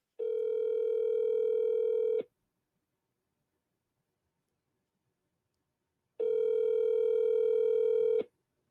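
A telephone ringback tone sounds during a live sports talk show call, with two long steady tonal pulses about two seconds each, separated by roughly four seconds of silence, clear and alone.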